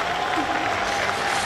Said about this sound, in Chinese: 所以我希望你们给他鼓鼓掌